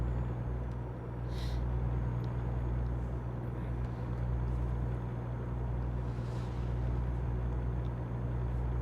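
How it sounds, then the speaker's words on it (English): A heavy truck in an SCS trucking simulation game drives along at speed, a steady low engine rumble and road drone continuing throughout with faint higher hiss, and no one talking. "So look at that, this truck is already speeding."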